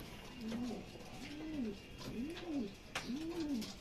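A racing pigeon coos close by, four soft rising-and-falling calls at a steady, even pace over faint background noise.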